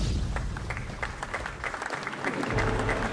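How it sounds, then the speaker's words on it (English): Audience applause at a live maths lecture, steady dense clapping filling the whole stretch, loud and sustained without any speech over it. "Oh yes, big applause."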